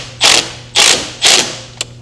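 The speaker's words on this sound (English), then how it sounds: "Put that 13 millimeter nut back." Three quick ratchet bursts tighten a 13 millimeter nut under a BMW M4 CS during a turbo build, each a loud close clicking run about half a second apart, followed by one short final click.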